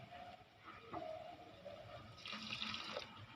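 Water pours into a cooking pot during the making of Punjabi-style aloo matar, a running, splashing stream with shifting tone and a few drips, heard alone at moderate level.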